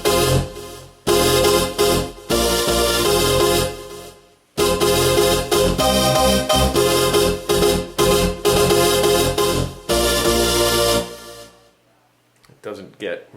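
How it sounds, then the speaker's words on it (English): Korg MicroStation synthesizer playing a clean split sound, with dense sustained chords in loud rhythmic bursts and short gaps, fading to quiet near the end. "Doesn't get really much better than that as far as a clean synth spit sound."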